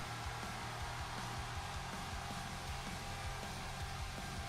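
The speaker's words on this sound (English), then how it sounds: "Sounds like a vacuum cleaner." A steady, even whirring hum, like a vacuum cleaner or blower running continuously at a constant level.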